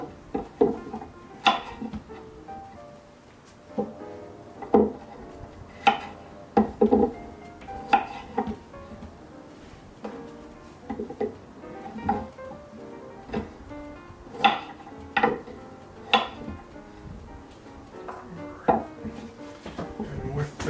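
Knife slicing carrots on a board, a series of sharp, separate chops spaced irregularly with quieter gaps and faint handling noise between, close and moderately loud.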